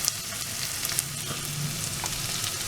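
Curry leaves sizzling in hot oil in a frying pan while cooking mutton white kuzhambu, a steady close crackle and hiss with no talk.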